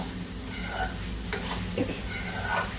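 Food sizzling in a pan over a high gas flame, a steady hiss with a few scrapes of stirring, while someone talks over it.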